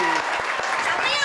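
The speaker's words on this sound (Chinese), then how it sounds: "掌声鼓励！" Children applaud after a quiz about Vietnamese clothing at a kids' show, a short dense burst of clapping mixed with excited young voices and cheering.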